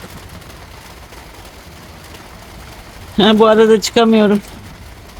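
Constant light patter of heavy rain hissing on surfaces in a garden fills the background, briefly interrupted by a person speaking.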